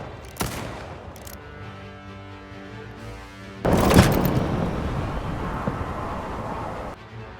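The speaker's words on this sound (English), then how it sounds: "We can start by firing your weapon. Go ahead. Take some shots." Gunfire from a weapon in the video game Highguard: a sharp shot, then a burst of rapid booming fire with a rumbling tail that stops abruptly, loud and close, alone without talk.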